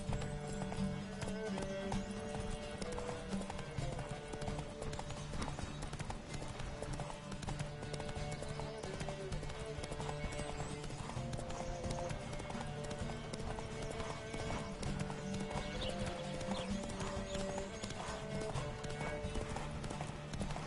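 Steady, rapid hoofbeats of a horse galloping in a Witcher race on PS5 drum on without pause, mixed with the game's background sound at a moderate level.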